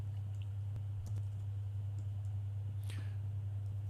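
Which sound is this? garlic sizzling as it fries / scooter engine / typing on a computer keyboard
typing on a computer keyboard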